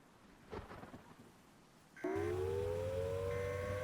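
A tornado siren in the Roblox game Twisted starts abruptly partway through, after a stretch of storm rumble and rain. It rises in pitch, then holds a loud, steady wail over a low hum.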